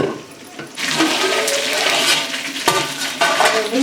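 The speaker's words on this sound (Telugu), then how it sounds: "నీళ్ళు బాగా మసులుతున్నాయి." Water bubbling and churning in a pot while cooking Arabian chicken mandi, a steady rolling boil that stays loud and close for several seconds, with occasional clinks from the pot.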